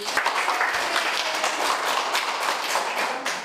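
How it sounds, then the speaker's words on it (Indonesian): Listeners give steady, continuous applause for a teacher, Bu Selvi, after a lesson on teaching children with special needs. The clapping is fairly close and even throughout, with no talking. "beri tepuk tangan untuk Bu Selvi"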